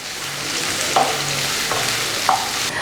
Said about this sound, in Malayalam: ഇനി എല്ലാം കൂടെ നന്നായിട്ടൊന്ന് മിക്സ് ചെയ്ത് കൊടുക്കുക.